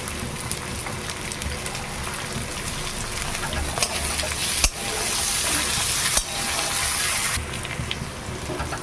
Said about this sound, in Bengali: রসুন পেঁয়াজ মরিচ বেশ লাল করে ভাজা হয়েছে